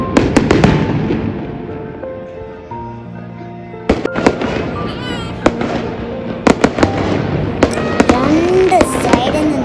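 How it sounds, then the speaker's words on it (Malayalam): Firecrackers burst repeatedly at the Golden Temple in Amritsar, sharp cracks going off again and again from more than one direction, with voices and crowd noise underneath throughout. "ഞങ്ങൾ ഞെട്ടിച്ച് പടക്കം പൊട്ടാൻ തുടങ്ങിയത്"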